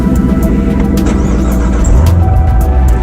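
Inside the cabin of a Corvette Z06 1LZ fitted with an AFE cold-air intake, the engine drones loud and steady while the car drives, with a slight rise in pitch toward the end.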